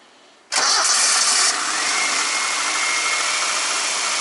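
A Toyota Corolla AE92 4A-FE engine cranks after new spark plugs and catches with a sudden loud roar, then settles into a steady, close running hum.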